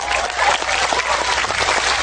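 Audience applause during a religious sermon gathering in Taiwan, a loud continuous wash of many hands clapping with faint crowd murmur underneath.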